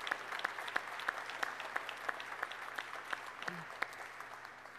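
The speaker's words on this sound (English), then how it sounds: "Let's give all the members of this family an incredible round of applause for their sacrifice" An audience at a clean hydro plant event applauds a workers' family, light rhythmic clapping heard at a distance over a steady low hum, fairly quiet and even throughout.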